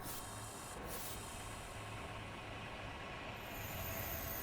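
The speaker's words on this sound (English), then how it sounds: "The bouncy train." Train cars roll along the track in the Constracktion building game, a steady, continuous rumble with a brief squeal of wheels near the start, alone with no talk.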